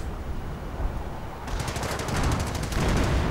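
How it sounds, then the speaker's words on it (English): Hummel 150mm artillery gun firing in a strategy video game, a dense burst of rapid crackling gunfire rising over a rumbling battlefield background, growing louder and busier after the first second. "the Hummel once more unleashes death from on high with its 150mm gun"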